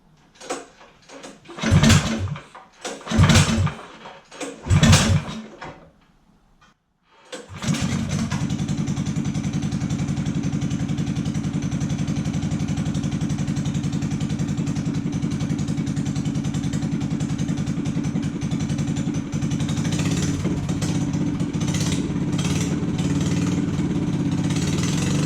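A Predator 301 engine on a Coleman BT200X minibike fitted with a Mikuni 28mm flat slide carb: a few short pull-start attempts, then it fires and settles into a steady, loud, close idle with clattering, running alone.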